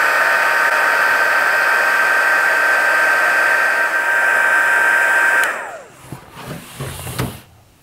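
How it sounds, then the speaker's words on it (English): Heat gun blowing hot air to melt solder wire, a loud, steady whining roar held for several seconds before it cuts off and winds down, leaving brief handling noises. "So let's get the heat gun going again"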